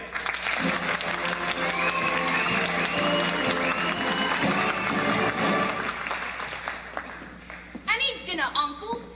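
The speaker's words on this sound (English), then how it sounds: "a warm round of applause for tonight's guest artiste and London's leading male impersonator, Miss Alice Nutting." Applause from an audience at a 1990 high school musical staging of The Mystery of Edwin Drood, a broad steady clapping that fades near the end as voices come in.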